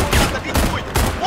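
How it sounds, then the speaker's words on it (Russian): Gunfire during a video game tournament grand final, three quick loud bursts of shots in close succession over about a second. "Вот они стреляют!"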